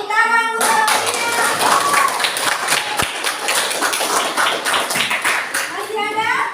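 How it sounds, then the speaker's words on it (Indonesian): Classroom clapping for a student, a dense patter of small hands that carries on steadily for several seconds, with children's voices talking over it near the start and end. "tepuk tangan untuk Aulia"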